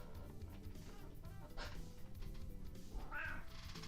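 A cat rubbing its face against a camera gives a short, close meow, accompanied by muffled rustling and brushing against the microphone.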